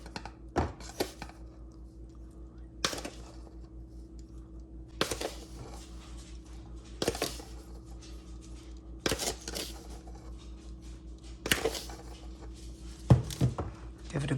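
A spoon stirs unflavored gelatin into cold water, producing sharp clinks and scrapes against the container in irregular bursts every second or two, with quiet pauses between.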